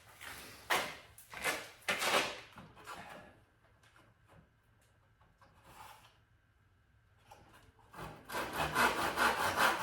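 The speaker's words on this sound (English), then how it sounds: "So now for the first time I'm trying a miter box for wood." A handsaw cuts wood in a miter box with rhythmic rasping back-and-forth strokes, close and fairly loud, pausing midway before resuming in a quicker run of strokes.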